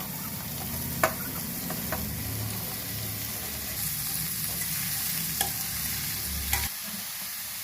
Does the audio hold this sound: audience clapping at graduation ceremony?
no